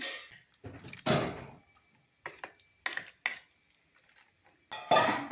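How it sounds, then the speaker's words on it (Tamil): Cooked, hot brinjal for baingan bharta is mashed with a masher in a pan: a few separate bursts of dull clanking and squelching, close and moderately loud, with short pauses between strokes. "ஸ்மாஷர் வச்சு ஸ்மாஷ் பண்ணிக்கலாம்"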